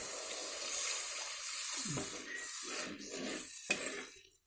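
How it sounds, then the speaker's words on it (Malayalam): Water poured into a pan of fish curry makes a close, continuous gushing and splashing for about four seconds before cutting off, heard alone without talk. "ഇതിലേക്ക് കുറച്ച് വെള്ളം ഒഴിച്ചു കൊടുക്കാം."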